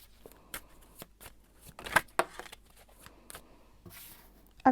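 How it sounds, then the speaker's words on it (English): Tarot cards being shuffled by hand at a tarot reading, close up: a run of crisp, irregular riffling and flicking bursts with short pauses between them, ending in a sharp snap, no talking. "I'm going to shuffle."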